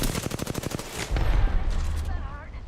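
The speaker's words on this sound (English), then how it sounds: "They're shooting at me. Firing." Rapid bursts of gunfire ring out in a 2D planner video game, a quick string of sharp shots followed by heavier, booming blasts, with a voice partly over the action.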